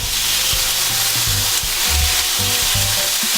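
Thin chops fry and brown in a hot pan, giving a loud, close sizzle with soft stirring and shuffling bumps underneath.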